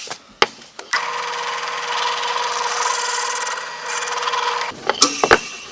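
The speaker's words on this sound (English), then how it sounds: "I just need to finish drilling these holes through, all the way through this piece" A drill boring holes all the way through a wooden stop block for a bandsaw circle-cutting jig, running as one steady, loud whir for about four seconds, with a few sharp knocks and handling clatter just before and after.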